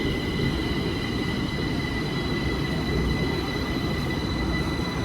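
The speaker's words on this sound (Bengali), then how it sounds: "এই যে আমাদের মেট্রো এসে গেছে, এটা ধরে আমরা যাব এখন" A Delhi Metro train pulls into a station with a loud, steady rumble and high electrical whine filling the whole stretch, close and continuous with no talk over it.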